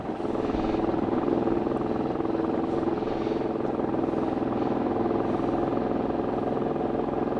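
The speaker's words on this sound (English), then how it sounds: "Still got that nice brrr when you roll the throttle off." An old British single-cylinder motorcycle engine rolls off the throttle with a steady, even, throbbing drone, close and fairly loud throughout with no talk.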